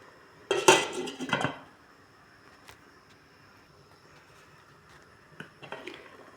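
A metal lid clattering onto a cooking pot of taro with coconut milk and dried fish, a loud close rattle of metal on metal lasting about a second, followed by quiet and a few faint clinks.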